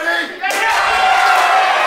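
A crowd at a wrestling match cheers and yells loudly, a sustained roar of many voices that builds after a brief dip and stays full and close.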